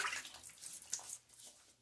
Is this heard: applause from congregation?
no